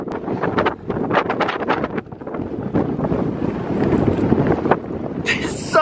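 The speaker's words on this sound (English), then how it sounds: "It's really windy." Strong wind buffets loudly against the microphone in rumbling gusts while longboarding on a dirt path, with a person talking underneath.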